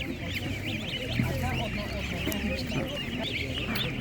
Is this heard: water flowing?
no